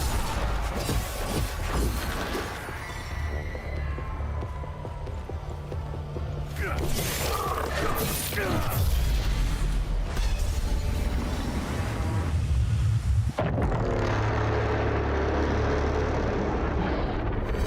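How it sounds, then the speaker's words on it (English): A time loop going critical in the video game Hell Is Us, a loud, dense mechanical roar with grinding, creaking swells and sweeping surges, building over many seconds before a sharp cut into a steadier, lower rumble. "I think that was the sound of the time loop going critical"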